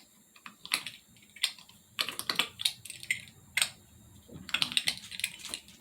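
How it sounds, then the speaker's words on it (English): Biscuit dough being cut out with a biscuit cutter for cast iron biscuits, heard as a series of soft, close tapping and pressing clicks in irregular clusters, with no talking. "just cut your little biscuits out."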